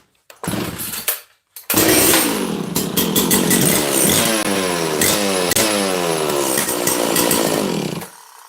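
A Makita DCS540 chainsaw starts after a restart: a brief sputter and cut-out, then it catches and runs loud and close, its revs rising and falling, before it stops abruptly.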